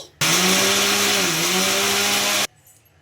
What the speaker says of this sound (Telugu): ఇంకా ఇప్పుడైతే మూత పెట్టేసుకొని గ్రైండ్ చేసుకోవాలండి